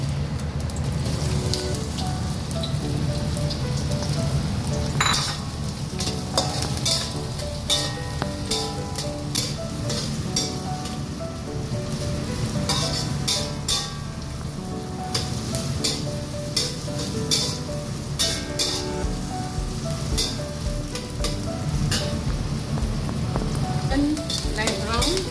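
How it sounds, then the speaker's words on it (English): Onion frying in a pan for keerai curry, a dense, loud, continuous sizzle crackling like rain, with frequent clattering strokes of a spoon stirring throughout. "Put in your onion first"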